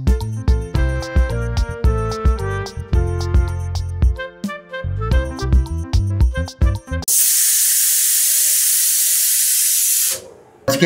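A pressure cooker venting steam: a loud, steady hiss bursts in after a stretch of rhythmic music, holds for about three seconds, then stops abruptly.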